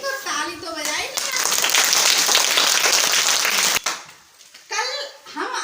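Young children in a kindergarten classroom break into a burst of hand clapping after a story, loud and dense for a few seconds, with a voice speaking before and after.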